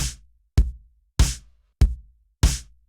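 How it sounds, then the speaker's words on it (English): Kick and snare drum samples alternate in a steady pattern, five hits in three seconds: dull low thumps trade with brighter, noisy cracks, each cut short by clean silence. "so there's our kick and snare"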